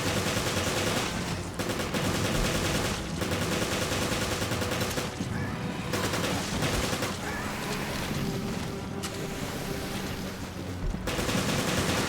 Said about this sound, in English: I guess I'm gonna have to use my machine gun ammo now.